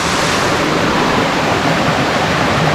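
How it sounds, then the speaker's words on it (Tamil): A hidden waterfall beside a roadside route pours with a steady, dense roar, a close, loud, unbroken rush of water with no voices. "சூப்பரான ஃபால்ஸ்."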